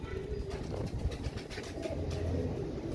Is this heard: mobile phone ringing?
no